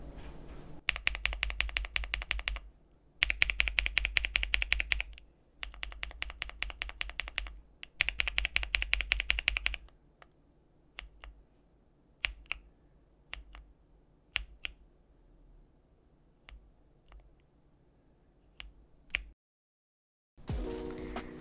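Bolsa Supply Techno Violet linear keyboard switches, lubed and stock, in bursts of fast close typing, then sparse single sharp keystrokes separated by quiet gaps, a brief rustle at the end, no voices.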